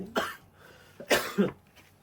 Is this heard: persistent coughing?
yes